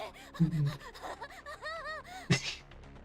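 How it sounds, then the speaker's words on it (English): A creature in Limbus Company breathing heavily, with short gasping breaths and sighs in close, uneven bursts that rise and fall over about three seconds. "She's heavy breathing. The creature."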